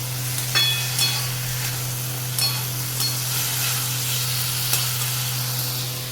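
Boiled banana flower (mocha) sizzles in a pan on a home stove, with a steady frying hiss and a few sharp scraping strokes of a spatula as it is stirred, close and loud with no talk.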